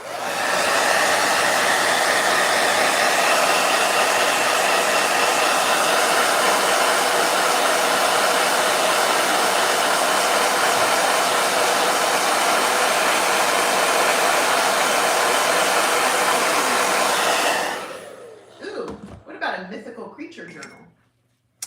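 A loud, steady blow dryer roars continuously for most of the clip, then cuts off, leaving a person speaking in a quiet room.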